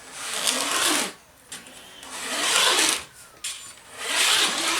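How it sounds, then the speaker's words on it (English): A veneer saw makes rough scraping strokes separating wood veneer, three long rasping passes separated by brief pauses, close and fairly loud with no talking. "you can kind of hear when that wood does start to separate"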